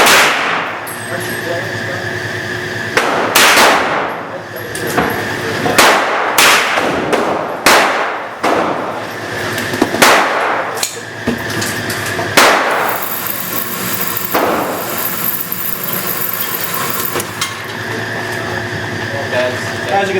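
A rifle fires at a shooting range, producing a series of sharp, loud reports spaced a few seconds apart over a steady background rumble.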